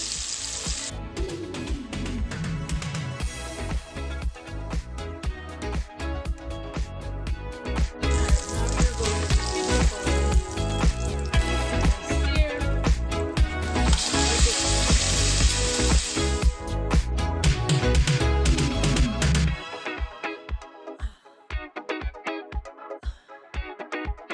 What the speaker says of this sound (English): Once your pan is hot, we're gonna go ahead and take our filet. And we're gonna put that down there.